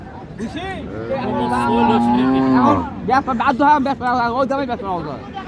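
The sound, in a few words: cattle at a livestock market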